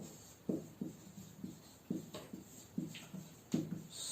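Close, quiet strokes of writing on a board during a Class 10 maths lesson, a series of short scratchy marks in an uneven rhythm with small pauses, no talking.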